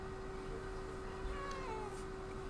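A pet cat gives a faint meow that slides in pitch, heard over a steady background hum with no talking.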